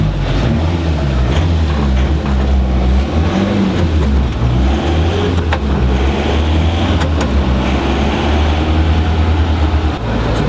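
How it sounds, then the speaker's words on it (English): A car engine runs loud and steady on a dynamometer, held near a constant speed with a deep droning hum for the whole stretch, no voices over it. "I just run the car up now."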